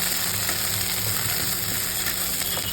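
Nigella seeds and spice paste fry in hot oil in a wok, giving a steady, dense sizzle that holds at an even level throughout with no talking.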